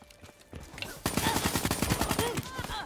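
Rapid automatic gunfire in Call of Duty: Black Ops III, starting with a few scattered shots and then breaking into a dense, loud burst of fast repeating rounds with game effects mixed in.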